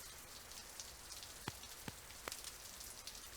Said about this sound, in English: we watch the rain together